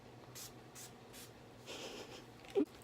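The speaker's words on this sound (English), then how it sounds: "I just want to spray it." A room spray bottle hissing in several short bursts, three brief puffs followed by a longer spray, close and fairly quiet, with no talking.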